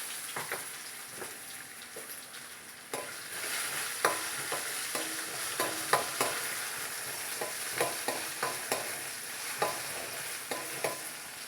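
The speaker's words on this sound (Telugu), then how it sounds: "బంగాళదుంపలు కలర్ చేంజ్ అయ్యే వరకు వీటిని ఫ్రై చేసుకోవాలి కొంచెం గోల్డెన్ బ్రౌన్ కలర్ వచ్చే వరకు వీటిని ఫ్రై చేసుకోవాలి" Potatoes frying in three to four tablespoons of oil until golden brown, giving a constant hissing sizzle with sharp intermittent scrapes and clacks of a spoon stirring the pan; no speech.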